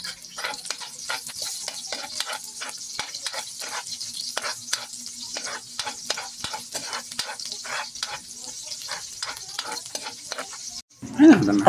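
Onion and garlic sautéing in a pan, with a steady sizzle under quick, rhythmic scraping stir strokes that run throughout before a brief, louder clatter at the end.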